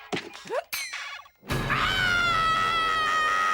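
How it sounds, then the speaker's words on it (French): A cartoon character lets out a long, piercing, wavering scream that rises suddenly after a few short squeaky vocal yelps and a brief silence, loud and sustained to the end. "c'est quoi ce hurlement?"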